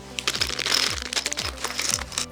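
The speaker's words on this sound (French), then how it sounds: "On déballe le sachet de visserie" A small plastic bag of furniture hardware, screws and wooden dowels for a kitchen wall cabinet, is torn open and handled, giving close crinkling and rattling in quick bursts.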